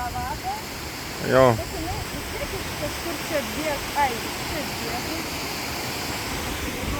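A mountain river rushes beside a levada on Madeira, producing a steady, close, hissing roar of water, with a person's voice briefly heard over it.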